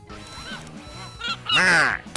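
Nasal duck quacks, likely voiced, in a comedy duck hunting sketch, with rising and falling calls and a loud harsh squawk near the end over a busy background.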